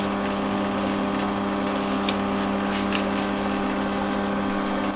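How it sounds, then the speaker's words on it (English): A small watchmaker's lathe set up for polishing pivots runs at about 300 revs, giving a steady, even motor hum with faint tonal whine and no change in pitch, alone without talk. "Start up the lathe. I'll turn it up a little bit higher. It's about 300 revs."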